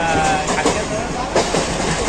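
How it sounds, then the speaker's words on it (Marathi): Inside a moving, crowded Mumbai local train, a steady rumble of wheels and carriage noise fills the space, with voices murmuring faintly beneath. "आम्ही ट्रेनमध्ये खूप गर्दी होती."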